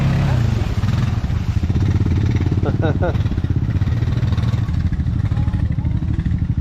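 A Honda Rubicon 520 ATV engine runs steadily and loudly at close range, with a continuous mid-pitched drone and brief revving through the clip, while people shout and talk over it outdoors.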